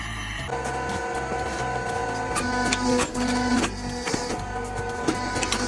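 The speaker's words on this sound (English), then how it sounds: "This might be a small machine, but it's one of the most powerful ones when it comes to cutting the branches of large trees" A small but powerful machine cuts large tree branches into equal pieces. It gives a steady, loud mechanical whir with a humming tone and occasional knocks.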